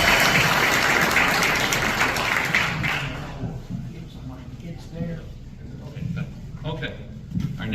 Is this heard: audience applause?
yes